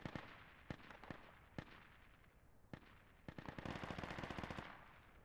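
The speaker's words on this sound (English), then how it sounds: "Ah! Machine gun got me." Machine gun fire in the tactical shooter Project Reality: scattered single cracks at first, then a rapid sustained burst of shots, fairly close and loud.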